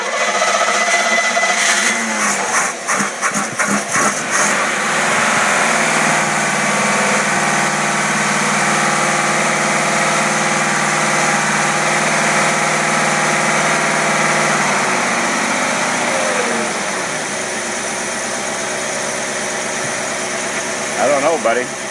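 A car engine fitted with an Edelbrock carburetor runs at a steady idle, loud and close, then winds down near the end, with a person talking over it.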